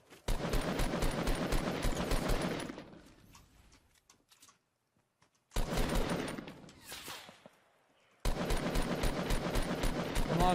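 Bursts of automatic gunfire in the Fortnite video game, dense rapid shots in two long loud stretches with a quiet gap and a few scattered single shots between them.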